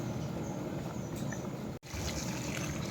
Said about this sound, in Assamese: এই মাংসত পানী দিলোঁ এতিয়া